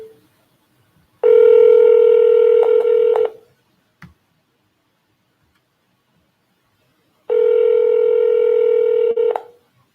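Telephone dialing tones during a real estate cold call: two long steady electronic ringback tones, several seconds each with a silent gap between, loud and close with a faint click in the middle, no voices.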